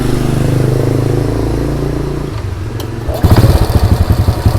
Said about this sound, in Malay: Kita dengar bunyi motor ni macam ni.